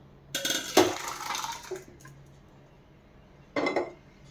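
Cooked dal scooped from a pressure cooker into another bowl, with metallic clinks and scrapes of a spoon against the vessels in two short bursts separated by quiet.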